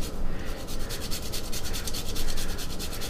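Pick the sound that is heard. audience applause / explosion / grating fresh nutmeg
grating fresh nutmeg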